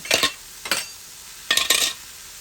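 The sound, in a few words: mashed beans browning in a pan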